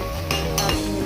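A utensil stirring fried onions with mustard seeds in a pan, a couple of close metallic scrapes and clinks over a steady sizzle.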